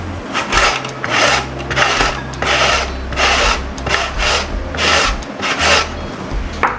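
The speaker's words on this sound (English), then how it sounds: "Next we'll be grating our carrots." Carrots, two medium ones, are rubbed against a kitchen grater in rhythmic repeated rasping strokes, close and steady, about a dozen passes without talk.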